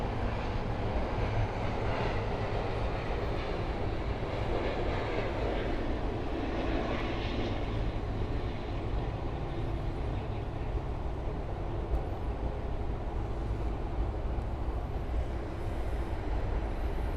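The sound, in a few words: Air France airliner arriving at Miami airport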